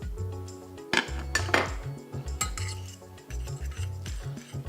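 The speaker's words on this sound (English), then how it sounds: "Mix that all up, stir it all up so everything is fragrant" Couscous with a dab of butter, cilantro and almonds stirred and fluffed in a pot, spoon scraping and clinking against the metal sides in a steady rhythm, close and moderately loud with no talk.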